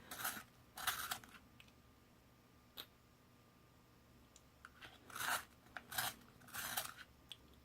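A Faber-Castell dual barrel sharpener shaving a colored pencil, several short quiet grinding bursts with pauses between, close and faint in a quiet room.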